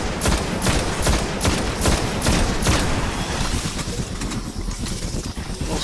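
Rapid bursts of Destiny gunfire crackle loudly at close range, firing in quick succession through the first half before tapering into a rougher, steady rumble of combat noise.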